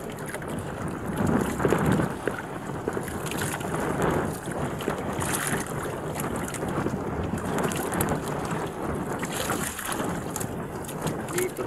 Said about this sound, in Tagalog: Guys, malakas ang hangin dito guys, oh.